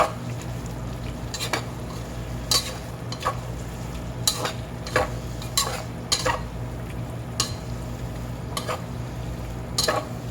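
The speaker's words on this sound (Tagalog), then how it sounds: "i-mix na natin ng mabuti para mahalo po yung mga ingredients niya" Chicken cubes being stirred and mixed in a pan, a steady frying hiss underneath with repeated sharp utensil scrapes and clinks against the pan at an uneven rhythm, close and fairly loud, no talking.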